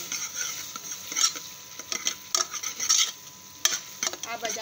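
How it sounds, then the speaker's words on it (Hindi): Onion curry with spices is stirred in a pan, brisk uneven scraping and clinks of a spoon over a faint light sizzle, close up and without any voices. "हमने मसाला डाल दिया है, अब हम इसे अच्छे से हिला लेंगे।"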